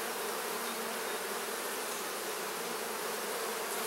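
Honey bees buzz in a dense, continuous swarm drone around an open hive being split, close and steady with no voices.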